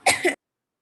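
A single short sneeze-like burst in two quick pulses, close and fairly loud, followed by silence.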